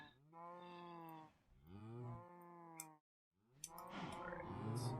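Minecraft cows lowing in the video game: three long, drawn-out moos in a row, the last rising and fuller, fairly quiet and alone with no talking.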